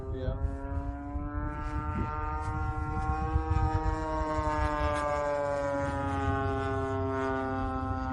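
Gas-powered RC model airplane engine flying, a steady high buzzing drone with rising and falling pitch as it passes, loud and continuous, with people talking over it.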